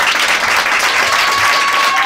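A comedy club audience breaks into loud, sustained applause for a comedian.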